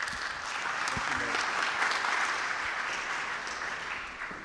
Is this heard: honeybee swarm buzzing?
no